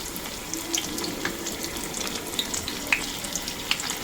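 Homemade chili dynamite rolls fry in hot oil, giving a steady close crackle and hiss with scattered sharp pops and spits throughout, alone with no voices.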